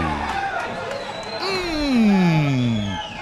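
Crowd at a lower-division Paulista football match between Taquaritinga and Joseense, a broad swell of disapproving noise rising and fading under an excited commentator's voice.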